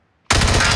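A sudden, loud burst of rapid automatic gunfire from a video game shooter cuts in from silence and continues as a dense, close-up rattle.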